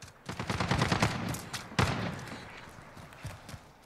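Rifle fire from a CTAR-21 SBR in Call of Duty Modern Warfare: a rapid burst of close, loud shots for about a second and a half, then a single sharp crack, then a few scattered quieter shots.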